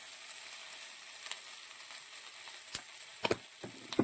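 Potato curry frying in a pan with turmeric powder: a soft, steady sizzle with a few sharp clinks and scrapes of stirring near the end, and no talk.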